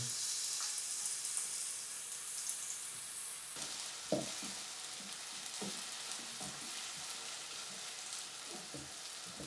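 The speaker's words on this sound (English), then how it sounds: "And we're gonna add our onion. We'll cook the onions till they're golden." Onions fry in about half a cup of oil, giving a steady, hissing sizzle with scattered pops and faint stirring knocks, close and continuous throughout.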